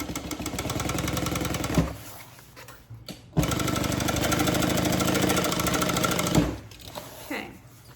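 A sewing machine stitches a handbag with contrasting thread, running in a steady rapid mechanical whir that pauses briefly twice before starting again, close and loud.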